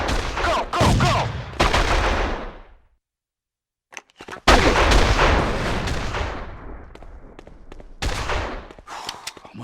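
Sniper and rifle fire in the game Made Man, loud sharp shots and volleys with a brief silent gap, then a dense run of cracks and booms.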